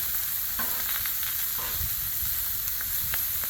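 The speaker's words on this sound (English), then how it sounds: "These you don't have to leave that long, you're basically just searing them" Food sears on a Blackstone flat-top griddle with a steady broadband sizzle and occasional scraping or stirring clicks, loud and close, with no talk.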